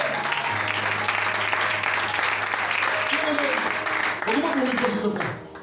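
A church congregation applauds to acclaim the Lord in loud, sustained clapping and cheering that fills the space, with voices rising over it near the end as the applause fades.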